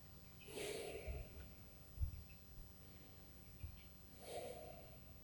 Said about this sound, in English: Breathe in and breathe out. Do it 3 times.